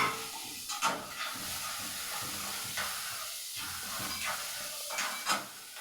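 Finely chopped onions sautéing in a pan with a quiet, steady hiss and sizzle, swelling in soft bursts as they are stirred, close but faint.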